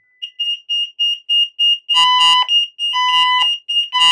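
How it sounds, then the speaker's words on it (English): A Qolsys IQ Siren set off by a fire signal from a Honeywell LYNX Touch panel: a rapid string of loud electronic beeps, then harsher pulsing alarm blasts, close and continuous. "You should see the siren go off."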